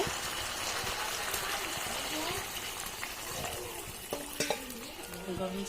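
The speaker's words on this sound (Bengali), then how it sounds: "এখন আবার একটু নাড়াচাড়া দিয়ে আলুগুলোর সাথে মশলার সাথে মিক্স করে দিব।" Potatoes with spices are stirred in a frying pot, a continuous close sizzle with scraping and wet stirring sounds, while a voice talks over it in places.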